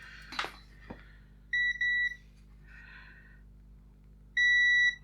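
A multimeter's continuity tester on a repaired USB stick gives two short high electronic beeps in a row, then a longer sustained tone, separated by quiet handling clicks, close and clear.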